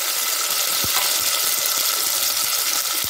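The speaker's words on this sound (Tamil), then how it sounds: "இப்போ நறுக்கி வச்சுருக்கிற ஒரு தக்காளியும் இதில் போட்டுக்குவோம்." Chopped tomato fries with onion and green chilies in a pan while cooking kuska, a continuous close sizzle broken by a few soft knocks of stirring.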